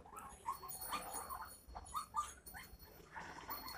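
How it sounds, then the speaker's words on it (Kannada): A female Shih Tzu puppy whimpers and yips in short, high, soft cries, faint and close, repeating irregularly over a quiet background. "ಇದು ಶಿಡ್ಜು ಬ್ರೀಡ್ ಫೀಮೇಲ್ ಪಪ್ಪಿ ಇದು"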